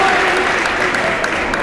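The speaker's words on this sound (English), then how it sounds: "and he gets a loud applause." Loud applause from the crowd at a high school boys' basketball game in a gym as a player enters, a dense, steady roar of clapping filling the whole moment.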